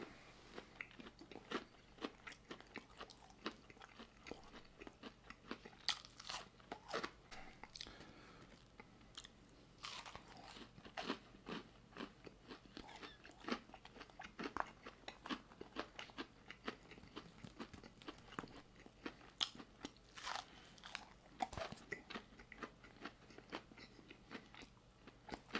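Someone bites and chews a crunchy barbecue chicken sandwich close up, with a long series of sharp crisp crunches and wet chewing at an irregular pace, quiet overall and without talk.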